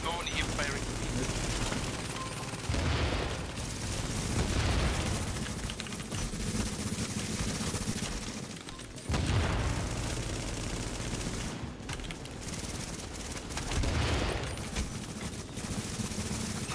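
Dense gunfire from The Division, bursts of automatic weapons and scattered shots rolling on continuously, loud and busy throughout with a voice talking over the top.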